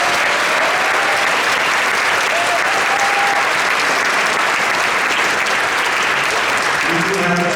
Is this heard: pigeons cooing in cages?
no